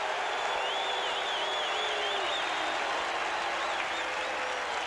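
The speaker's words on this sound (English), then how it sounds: "Now listen to the crowd." A packed stadium crowd at a 1987 Raiders at Packers NFL game reacts to a James Lofton catch with a continuous, distant roar of cheering and applause that holds steady throughout, with a few higher whistles or shouts rising out of the wash.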